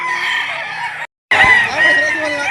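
A rooster crows loudly and close by at a poultry market in Padre Garcia, Batangas, one long call broken by a short pause and then taken up again, with a voice talking over it.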